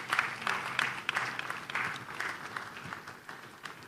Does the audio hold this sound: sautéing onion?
no